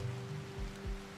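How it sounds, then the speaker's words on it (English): Steady rain falling in the RimWorld colony game, a soft continuous hiss of drops on the ground outdoors in fog, even and unbroken, with a low hum and a couple of brief low swooping tones beneath it. "Foggy rain outdoors."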